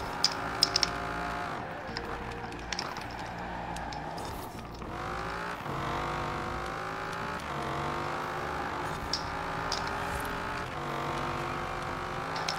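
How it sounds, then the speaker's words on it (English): A race car engine in the Forza Horizon 4 video game revs up and down through repeated gear changes, its rising and falling whine fairly faint and steady, with a few light clicks over it. "I love the sound of its engine too."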